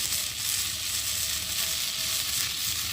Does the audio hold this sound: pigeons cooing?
no